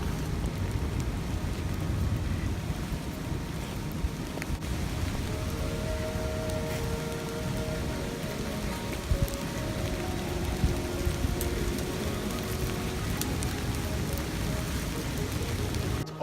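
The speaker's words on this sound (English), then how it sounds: "It's started to rain" Steady rain falling outdoors, a dense continuous hiss of drops with a faint tonal hum partway through, no voices.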